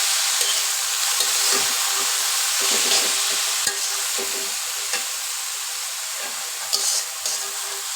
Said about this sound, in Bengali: এখন আমি এটা নেড়ে চেড়ে নেব বন্ধুরা